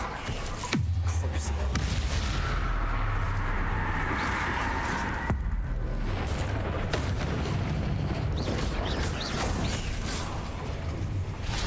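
Spell explosions and combat effects from the video game Hogwarts Legacy, including the Bombarda blast, sound as a loud, dense run of booms and crackling bursts over a steady game soundtrack.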